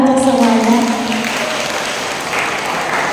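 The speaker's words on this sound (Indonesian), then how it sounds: "Tepuk tangan untuk semuanya." Audience applause at a cinema talk event in Bandung, a brief wash of clapping with a voice over the first second and fading slightly afterwards.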